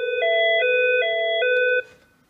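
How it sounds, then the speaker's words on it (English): A Nortel 1230 IP desk telephone rings with a steady electronic tone, pulsing in short repeated bursts, close and loud, then cuts off abruptly as the ringing is silenced. "I can just simply press ignore and the phone stops ringing."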